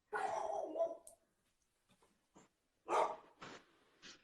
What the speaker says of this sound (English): Now my dog is going crazy because there's someone at the gate.